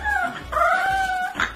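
A bulldog puppy attempts a howl, producing a thin wavering whine that rises and falls, then a short yip at the end, close and fairly loud with no talk.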